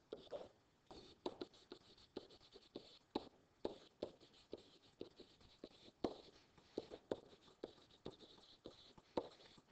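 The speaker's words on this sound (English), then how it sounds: "I'm going to draw a tree diagram to help me illustrate this" Pen writing on paper while a tree diagram is drawn, a quiet, close run of short scratchy strokes in irregular bursts, with no voice.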